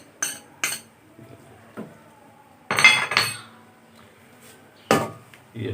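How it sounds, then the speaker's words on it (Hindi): A spoon stirs ginger and garlic in a chicken karahi pot, giving several separate metallic clinks and scrapes close by. A louder cluster of clatter falls in the middle, and no one speaks. "इसको चम्मच हमने हिलाता जाना है ताकि इसमें ये नीचे ना लगे।"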